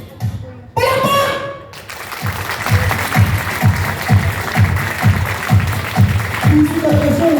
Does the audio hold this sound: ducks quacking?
no